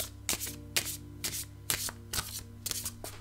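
Tarot cards are shuffled in several quick riffling bursts, close and crisp, separated by short pauses over a low steady hum.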